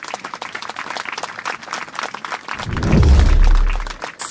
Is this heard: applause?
yes